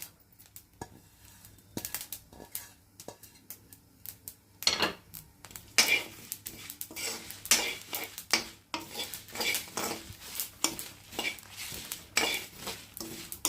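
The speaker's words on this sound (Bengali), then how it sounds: "এগুলো কিছুটা ভাজা হয়ে গেল। এখন আমি সর্ষেগুলো দিয়ে দেব।" Mustard seeds fry in a pan for mixed pickle, with a spoon scraping and clattering against the metal in irregular bursts over a light crackling sizzle, close and fairly loud.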